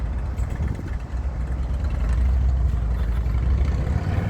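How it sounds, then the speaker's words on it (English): A steady low engine rumble, loud and close, swelling slightly louder partway through as if a motorbike draws nearer. No voices. "some new motorcycle that likes this to make that sound around children in the nighttime"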